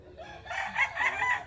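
A chicken gives a short crowing call close by, a brief rising squawk lasting about a second.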